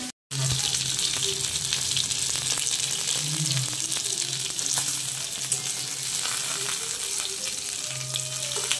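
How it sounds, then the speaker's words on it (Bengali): Fish frying in hot oil in a home kitchen pan, a steady loud sizzle running almost unbroken from the start, with a few faint clinks and knocks underneath. "চলো মাছগুলো গরম গরম ভেজে নিই"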